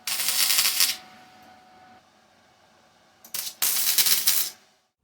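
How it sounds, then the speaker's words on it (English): Tack welding on an intake manifold for a 2234cc Type 1 engine: two loud bursts of crackling, hissing arc, about a second each, separated by a quiet pause with faint shop hum. "I gotta tack weld it"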